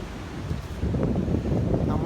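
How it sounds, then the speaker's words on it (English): Strong gusting wind on an Appalachian Trail mountain path ahead of a storm, a low, heavy roar buffeting the microphone throughout the short moment. "the wind's getting pretty hard"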